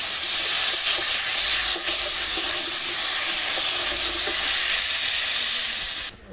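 Cumin, ginger and chili paste being fried and stirred in a village kitchen pan, a loud, steady, close sizzle that runs throughout and cuts off abruptly at the end, with no one speaking.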